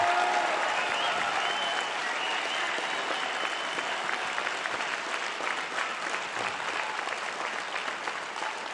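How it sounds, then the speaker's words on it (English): Crowd applause during a stand-up comedy show, sustained and fairly distant, a thick even patter of many hands that fades gradually over about nine seconds. "Thank you I appreciate that round of applause."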